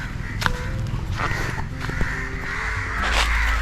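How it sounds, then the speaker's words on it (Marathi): A flock of crows gathers over a village burial spot, giving several harsh, repeated caws at moderate distance against a quiet outdoor background. "ते बघा एवढे कावळे आलेत ना"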